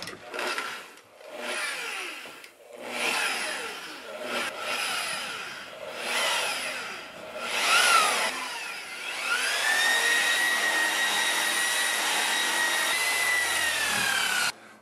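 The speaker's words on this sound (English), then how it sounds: "come back with the polishing pad and sort of rub it in, and then hit the RPMs and put the shine on it" A spinning polishing pad buffs glossy UV-cure resin on a surfboard rail, with repeated rubbing passes that swell and fade, then a steady, sustained high-pitched machine whine as the speed is raised.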